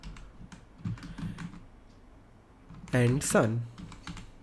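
A computer keyboard is typed on while entering a text prompt: a run of quick, light clicks at moderate distance, followed by a short stretch of talking.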